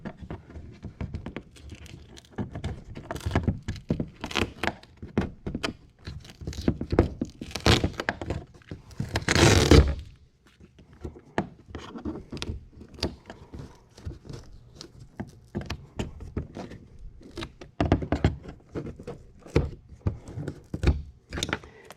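A scraper repeatedly jabs and pries at deck mats stuck to a Hobie kayak, making dense irregular thunks and scrapes up close, with a longer tearing rasp midway.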